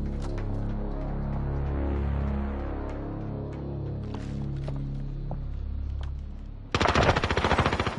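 Rapid AK-47 automatic fire in an online shooter, a dense burst of close, loud shots erupting near the end after a steady low background hum.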